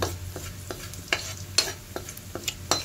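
Garlic sautéing in a pan for a pork rib mung bean stew, a soft sizzle under repeated sharp scrapes and clinks of a spatula stirring at an uneven pace.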